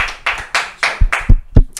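A few people clap in sparse, uneven bursts, about six or seven separate claps spread over under two seconds. They are close and fairly loud, with no voices.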